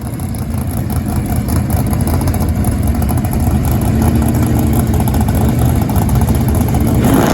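A loud, dense roar of a Barracuda drag car engine during its fastest pass, a continuous heavy broadband blast with no pauses from start to finish.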